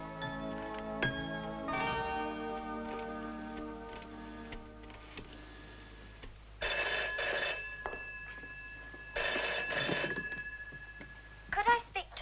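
A telephone bell rings in two loud, bright bursts in an office, with a ticking clock and indistinct talk beforehand.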